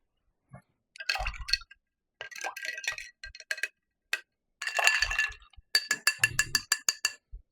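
A stirrer clinks against a cocktail glass in bursts of rapid, bright taps and rattles, close and clear with short pauses between bursts.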